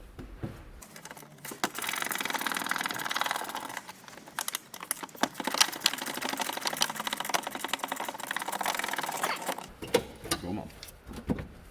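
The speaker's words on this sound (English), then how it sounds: "So ratchet spanner, I think." A ratchet spanner undoes a wing bolt, a steady rapid clicking ratchet that runs for most of the stretch at close range, with a brief voice heard over it.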